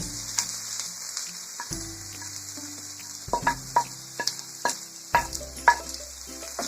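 Ginger, garlic, fenugreek, mango and chilli sautéing in a pan for onion chutney, a soft hiss of frying under repeated clinks and scrapes of a spatula stirring, irregular knocks growing busier toward the end.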